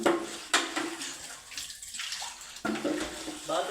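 Water running from a tap and filling a container in a village house during summer, a soft steady splashing stream with a few brief louder clanks, fairly quiet and close.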